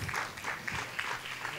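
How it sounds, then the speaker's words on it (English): A startup fair audience gives faint, distant applause for a pitching team at a 2017 startup battle semifinal. The clapping stays soft and pulses unevenly for a moment. "I want to hear clapping."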